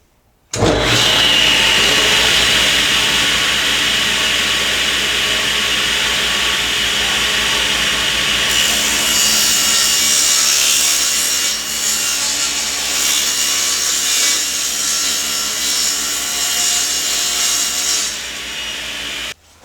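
A table saw rips along the edge of a plywood board guided by the rip fence, giving one loud, steady, continuous cutting whine that runs for most of twenty seconds before stopping.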